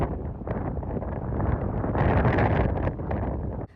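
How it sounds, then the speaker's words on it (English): Strong desert wind buffets a van while blowing dust hits the vehicle, a steady, loud roaring rush with gusty swells and fine gritty hiss throughout, no voices. "you can probably hear the wind and the dust hitting my car right now."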